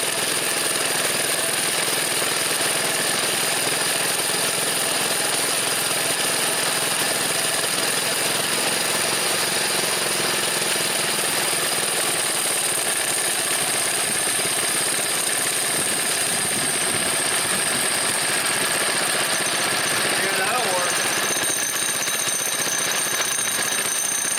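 A Predator engine on an old go-kart idles steadily as it warms up with the choke off, a loud, continuous buzzing drone that holds an even pitch for the whole stretch without any talk over it.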